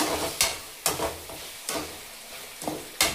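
Onions and ginger paste frying in a pan under a continuous sizzle, broken by four or five sharp scraping stirs at a loosely regular pace, close and clear, no talking.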